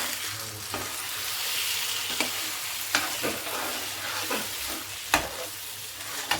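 An egg mixture for a paneer egg roll is stirred in a pan, giving a soft continuous sizzle under repeated scraping strokes of a utensil, close up and without talk.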